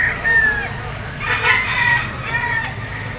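A rooster crows repeatedly, loud and near, at a chicken auction market in Lipa, with clucking and background chatter.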